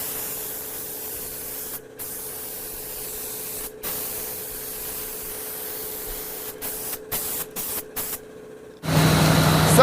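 Spray paint being applied to a Jeep outdoors, a steady close hiss broken by several short pauses between passes, ending in a louder burst of noise.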